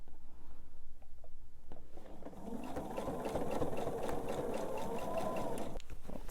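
A sewing machine stitches quilt blocks in a close, continuous whirring run that swells midway and stops near the end, with no talk.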